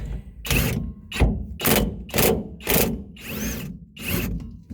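Repeated ratcheting bursts from a wrench tightening bolts on an S10's 8.5-inch 10-bolt rear differential, about eight evenly spaced close metallic zips with short pauses between.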